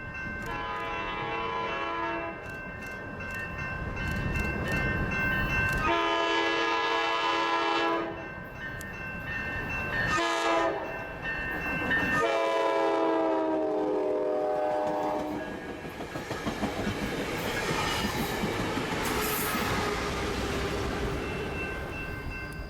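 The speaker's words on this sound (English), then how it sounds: "First train up here is southbound coaster commuter train 634, blowing past the Washington Street crossing" Southbound Coaster commuter train 634 near San Diego blasts repeated horn calls at the Washington Street crossing, then rushes past with loud rumbling and rattling wheels, the horn sounding several times over the passing.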